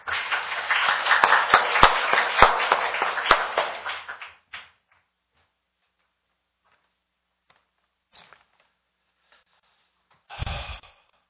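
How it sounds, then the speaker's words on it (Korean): An audience at a panel discussion on Korea–US–Japan military cooperation applauds to welcome a speaker, a brief burst of clapping with sharp hand claps that fades after about four seconds into near silence, followed by a short rustle. "우리 이부영 의장님 큰 박수로 좀 맞이해 주시기 바랍니다"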